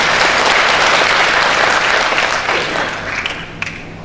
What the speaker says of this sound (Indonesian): Tepuk tangan untuk Kang Randy Saputra